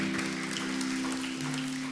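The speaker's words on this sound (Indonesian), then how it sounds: "Mana tepuk tangannya bagi Tuhan Allah." Congregation clapping at a church Sunday service, a steady wash of applause over a sustained organ or keyboard drone, dense and continuous for two seconds.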